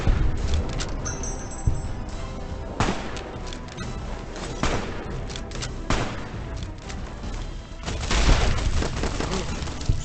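Bursts of gunfire and crashing impacts from the video game Fallout New Vegas, loud rapid volleys and booms layered with game sounds, while someone talks over the action.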